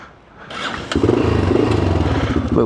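A Yamaha XT600 single-cylinder motorcycle engine runs at a slightly low idle, a steady close-up thumping pulse that holds at even loudness after a brief quieter start, with no talk over it.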